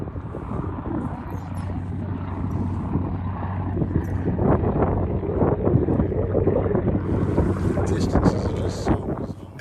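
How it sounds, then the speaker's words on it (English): Katabatic winds blow off a glacier in Wrangell-St. Elias National Park, Alaska, making a continuous, loud roaring rush with buffeting gusts across the microphone, and no voices are heard. "The noise you hear in the background are the katabatic winds, which are winds that blow off the glacier,"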